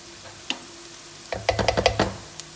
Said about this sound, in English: So now we will let it cook first. Let the onion cook first.